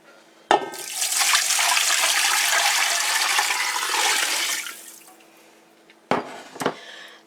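Water pours steadily into a pot holding a ham bone for stock, a sharp clunk starting a rushing stream that runs for about four seconds, fades, then a couple of knocks follow.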